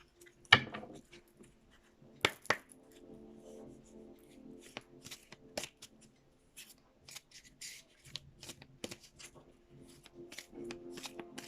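Oracle or tarot cards are shuffled by hand in quick papery riffles and soft slides, with sharp flicks near the start and a busy rustle that continues close and fairly quiet throughout.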